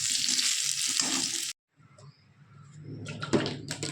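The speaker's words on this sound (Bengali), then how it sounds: "এদিকে আলুটা ভাজা হয়ে গেছে, এবার তুলে নেব।" Potatoes fry in oil in a pan with a loud, close sizzle that cuts off abruptly. After a short silence, quieter clatter and renewed frying noise build back up.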